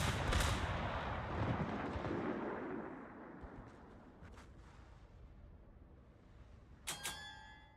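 Warship main-battery shells firing in World of Warships, a deep booming salvo that rumbles and decays over several seconds, followed by fainter distant thuds and a sharp metallic impact near the end.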